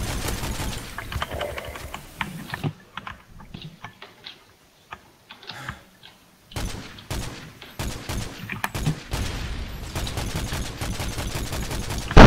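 Gunfire in the video game Call of Duty MW3: rapid bursts of sharp automatic shots, broken by a quieter pause, then resuming in dense clusters of cracks, close and loud.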